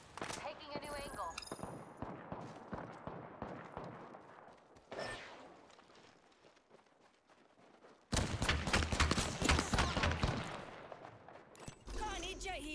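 Video game gunfire rattles out in rapid automatic bursts, dropping to quieter scattered shots in the middle before erupting again loudly near the end, with a player talking over it.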